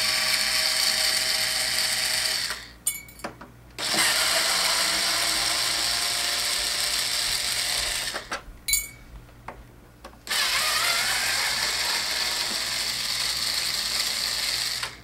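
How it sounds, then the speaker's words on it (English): Screws being backed out of a PS3 console, a steady close whirring, ratcheting driver sound running in long stretches with two short pauses. "Okay, now take the screws out."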